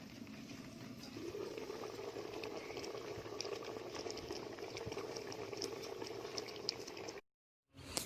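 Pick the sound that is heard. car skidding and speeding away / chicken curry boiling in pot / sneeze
chicken curry boiling in pot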